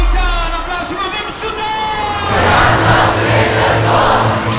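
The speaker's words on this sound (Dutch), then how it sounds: "een applaus voor Wim" A festival kickoff crowd roars and cheers loudly, with yells and whoops building into a big swell of noise, a low musical hum underneath.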